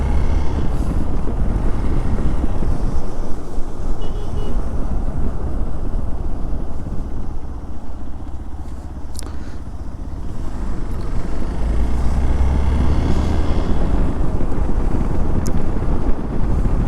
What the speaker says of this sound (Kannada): ಕಾಲ್ಗೆ ತಣ್ಣಗಿರೋ ಗಾಳಿನೂ ಹೊಡಿತಾ ಇದೆ.